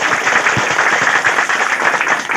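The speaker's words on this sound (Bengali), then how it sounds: "আমরা অঞ্চল তৃণমূল কংগ্রেসের পক্ষ থেকে করতালির মাধ্যমে ওনাকে সম্বোধন জানাই।" A crowd at a Trinamool Congress local gathering welcomes a new member with loud, dense, continuous clapping that holds steady and close for the whole stretch.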